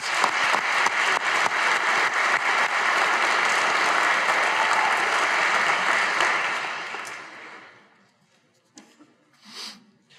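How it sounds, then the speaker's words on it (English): Sustained audience applause at a Syracuse University Maxwell School graduate convocation, steady and dense for about seven seconds before fading out, followed by a brief faint noise near the end. "A round of applause for all of our doctoral prize winners."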